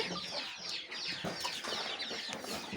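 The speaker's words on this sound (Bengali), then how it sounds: "ওই যে আমার আরেকটা অন্য মুরগি এসে পড়েছে" A backyard hen clucks steadily and close by, with a dense run of short repeated clucks and no voices.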